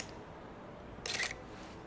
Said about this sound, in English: So just listen to the shutter.